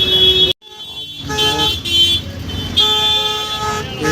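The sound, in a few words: heavy road traffic with car horns near Secunderabad station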